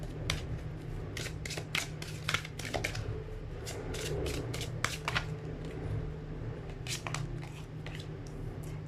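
Tarot cards being shuffled and drawn: a string of sharp, crisp riffling flicks in irregular bursts, close and clear over a low steady hum, with no talking.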